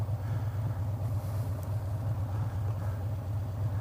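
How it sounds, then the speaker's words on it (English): Steady low rumble of car engines and road traffic heard from a motorcycle, continuous and fairly close, with no talking. "now I gotta sit here and wait for them same cars I just ran into a while ago to pass again"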